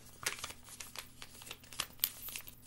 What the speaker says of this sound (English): And you're going to open it and fold it flat.